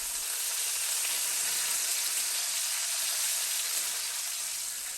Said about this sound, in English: Once the bacon is flipped onto the second side, it will only take about half again as much time to finish cooking